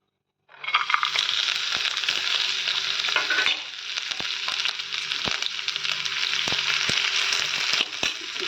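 Cashews and other ingredients fry in hot ghee for papaya halwa, a loud steady sizzle that starts abruptly and continues throughout, with occasional scrape and stir knocks of a spoon in the pan.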